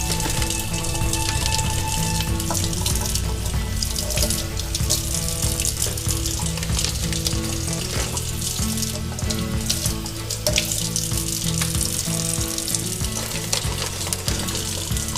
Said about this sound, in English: we're just going to take these fillets, give them a nice little wash off real here